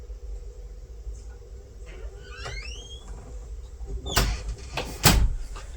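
A door squeaks and slides open to let a dog in, followed by two sharp thuds and clatters close by against a low background hum.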